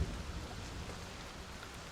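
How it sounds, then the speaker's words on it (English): Heavy rain pours down steadily in a broad, even wash of noise, loud and continuous throughout with no voices present. "it's still pouring down rain"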